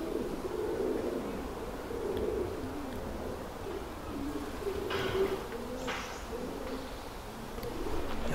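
Pigeons coo softly in soft, repeated low phrases over outdoor ambience beside the Hogsmill River, moderately distant, with a faint flowing background.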